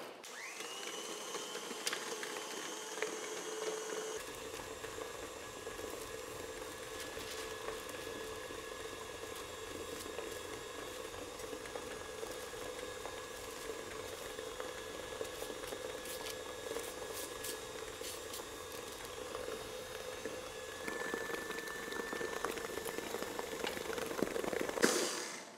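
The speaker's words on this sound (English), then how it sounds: "then I'm gonna put the mixer on and we're just gonna let it go" An electric mixer beats frosting in a steady, loud, continuous whir with a bowl-scraping grind, starting abruptly after a short quiet moment and running nearly half a minute, growing slightly louder toward the end.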